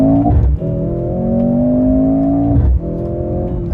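A 2024 Mercedes-AMG GLC43 compact SUV makes a race-start launch, its engine note rising steadily and loud through hard acceleration, with a brief dip near the start and another as it shifts gear near the end.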